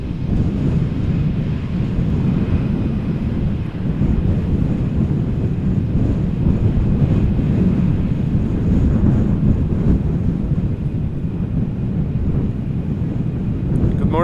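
A JetBlue airliner arriving at Amsterdam Schiphol in gusty crosswind, its broad engine roar steady and fairly loud throughout, mixed with heavy wind buffeting on the microphone.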